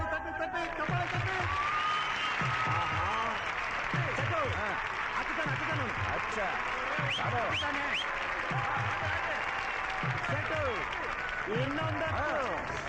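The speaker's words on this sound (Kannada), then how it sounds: "ಪ್ರೇಕ್ಷಕರೆಲ್ಲ ಜೋರಾಗಿ ಚಪ್ಪಾಳೆ ತಟ್ಟಿ ತಟ್ಟಿ ತಟ್ಟಿ ಚಪ್ಪಾಳೆ ತಟ್ಟಿ" An audience at a village fair applauds loudly and steadily as a man attempts to climb a greased pole, a dense wash of clapping and crowd noise running throughout with voices shouting over it.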